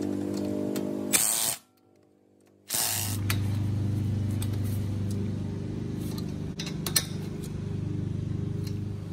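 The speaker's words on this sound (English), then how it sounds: "About to hit these bolts here." A power tool tightening car caliper bracket bolts: a buzzing whir, a short pause, then a longer steady mechanical drone with faint ratcheting clicks, close up and alone.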